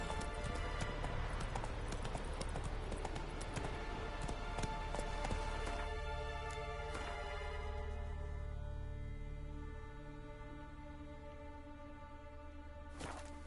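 Roach the horse gallops in The Witcher 3 on the Skellige isles, a rapid, steady clip-clop of hooves heard close and distinct, easing into a slower, sparser rhythm toward the end.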